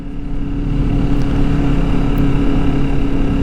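A 2022 Kawasaki Vulcan S motorcycle being ridden: a steady, loud, close engine drone with wind rush, constant throughout with no talking.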